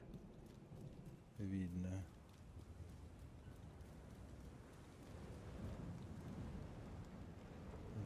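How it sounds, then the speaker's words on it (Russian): Stormy weather in The Division 2, with steady rain hiss and low rumbling thunder that swells later on, while someone speaks briefly near the start. "Надвигается какая-то буря. Ураган."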